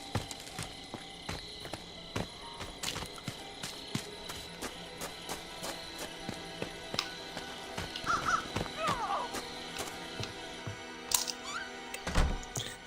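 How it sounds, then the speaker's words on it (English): Small birds calling at night in the Friday the 13th video game, scattered chirps and caws over a busy clicking, footstep-like background, fairly faint and distant. "There's so many different little birds you hear at night in this game."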